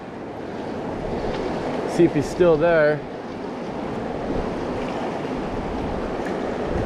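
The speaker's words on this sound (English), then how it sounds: "I'm in some turbulent water." Turbulent river water rushes steadily around an angler wading while nymph fishing, a constant broad wash of current with wind buffeting, and someone briefly speaks over it.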